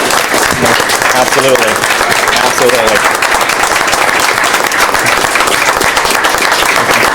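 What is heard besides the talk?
audience applause at a city council meeting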